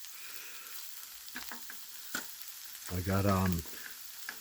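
Hamburgers frying in a pan on an electric range, a steady soft sizzle close by throughout, with someone speaking briefly over it.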